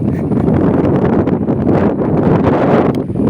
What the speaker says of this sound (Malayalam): ഇവിടെ നല്ല കാറ്റ് വീശുന്നുണ്ട്